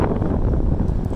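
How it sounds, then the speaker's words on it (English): Strong wind buffets the microphone at an outdoor Fastned EV fast-charging station with Alpitronic hyperchargers, a dense, loud rushing roar that holds steady through the whole brief moment. "A lot of wind."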